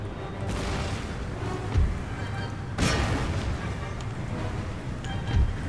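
Demi-cannon and artillery fire in the Empire Total War battle game, several deep booms spaced a second or two apart over a rumbling battlefield din, with faint voices in the background.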